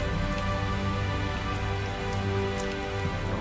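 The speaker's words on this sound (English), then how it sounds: "I'm also not a big fan of this rain." Steady rain falls in the video game Tales of Zestiria, a dense, even hiss over faint low ambient tones with no voices.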